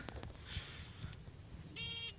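A steady metal detector beep with a clear pitched tone sounds near the end, following soft outdoor rustling and light handling noises beneath a small tree.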